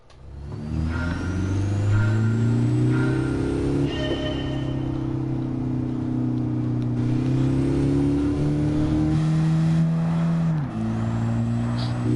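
Mazda street car engine in Gran Turismo 7, driven from cockpit view, holding a steady loud drone with rising and falling pitch through gear changes, running continuously throughout.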